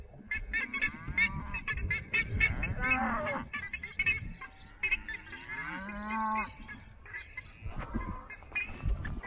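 Outdoors on a packrafting trip in Patagonia, Chile, a cow moos repeatedly at close range in long, wavering calls, with other lowing and rustling mixed in.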